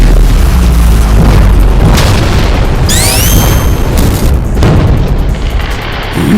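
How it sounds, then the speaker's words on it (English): A loud, sustained anime explosion effect from My Hero Academia booms and roars throughout, with a rising whistle-like streak in the middle and crackling debris. It is continuous and overwhelming. "I can use all that to time my secondary explosions."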